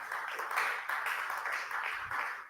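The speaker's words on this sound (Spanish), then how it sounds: "Démosle un aplauso al Eterno." A church congregation applauds together, a steady wash of many hands clapping that carries on throughout.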